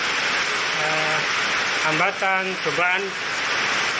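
Heavy rain pours outdoors as a steady, loud hiss while a voice briefly speaks or sings over it.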